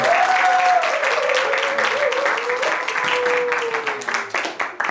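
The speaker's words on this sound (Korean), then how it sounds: "나오실 때 박수를 해주시도록 하겠습니다." A seminary audience at a theology reading-and-debate contest applauds steadily and loudly as a professor steps forward to lecture, with a voice carrying over the dense clapping throughout.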